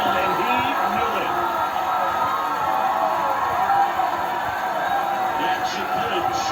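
A home crowd in the MLB The Show 24 baseball video game roars steadily after a home run, a dense, sustained wash of cheering with scattered whoops and no pauses.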